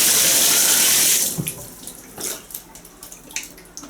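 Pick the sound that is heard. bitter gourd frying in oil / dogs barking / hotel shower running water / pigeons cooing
hotel shower running water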